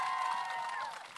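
At a television festival event, an audience gives a quiet, sustained round of applause with some cheering in a large room, heard from a distance.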